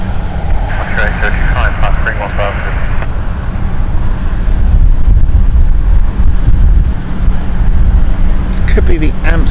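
Airliner on the Amsterdam flight at London City Airport, a steady engine rumble with wind buffeting the microphone and intermittent chirps and voices over it, growing slightly louder toward the end.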